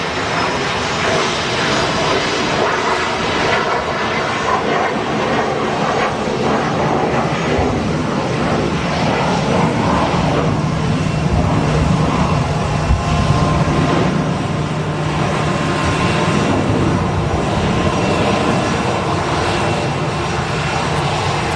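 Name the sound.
Jet2 Airbus A321 aircraft taxiing at Manchester Airport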